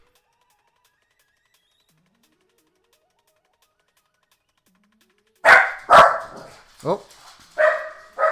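Dogs bark indoors in a few sharp, fairly close woofs after several seconds of near silence. The barks come in irregular bursts, and a voice briefly murmurs among them.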